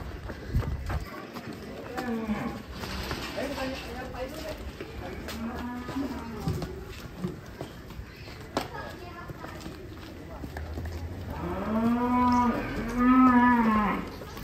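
Large cattle at a cattle centre in Ciledug moo repeatedly, low drawn-out calls with a loud close one near the end, while people talk nearby.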